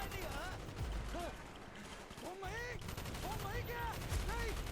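Machine gun fire in Call of Duty: Black Ops, in a Vietnam mission, rattling steadily and fairly loud throughout, mixed with shouting voices and battle noise.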